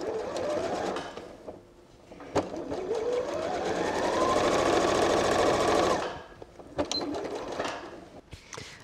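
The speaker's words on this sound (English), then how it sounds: "So sew about a third of the way across, leave a gap in the middle," A sewing machine stitches across a lined fabric pouch in a loud, continuous run of rapid stitching lasting a few seconds, with shorter bursts of machine noise before and after.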